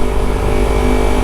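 A motorcycle engine, a 250R nicknamed Mamba fitted with a Laserbit Evo 1 full-system exhaust, runs loud and close with a steady, throaty drone and no voices over it.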